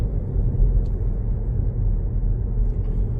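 Car accelerating during a driving lesson, a low steady engine rumble heard from inside the cabin, loud and continuous with no clear rise in pitch.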